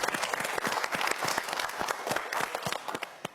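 A studio audience on a quiz show breaks into lively applause, dense overlapping claps filling the room for several seconds without pause.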